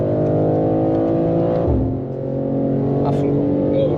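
A BMW M2 runs at full throttle on the Le Mans race circuit, its engine roaring loud and close with a steady rising note, a brief dip around a gear change, then pulling hard again.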